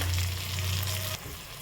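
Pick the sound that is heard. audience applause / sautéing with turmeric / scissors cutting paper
sautéing with turmeric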